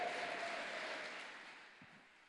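A church congregation applauds after a sermon on the healing of a man born blind. The broad, even clapping is soft and distant and fades away over a couple of seconds.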